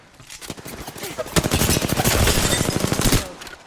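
Automatic gunfire in the Apex Legends video game: a loud, close, rapid burst of shots that builds over about two seconds and then stops abruptly.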